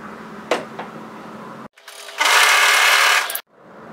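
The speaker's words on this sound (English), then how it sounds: "So fold that right sides together lengthways and overlock," An overlocker serging the short end of a fabric tie: a couple of soft clicks, then a close whirring burst of just over a second that stops abruptly, followed by quieter handling.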